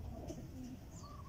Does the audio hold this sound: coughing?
no